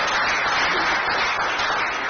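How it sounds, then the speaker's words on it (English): Applause from an audience at a Nigerian youth gathering on political action: a dense, steady wash of many hands clapping together, loud and sustained from start to finish with no voices on top. "Please let's give a round of applause for Nanven Haruna Mamdam."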